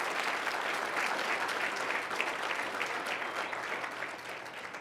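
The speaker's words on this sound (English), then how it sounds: "Round of applause for Jacob." A crowd applauds Jacob at a high school signing ceremony, and the clapping holds steady, dense and fairly distant, easing slightly toward the end.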